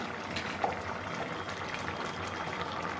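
A Bengali ridge gourd and shrimp curry bubbles in a pot at home, giving a soft, continuous simmering gurgle close by with no voices.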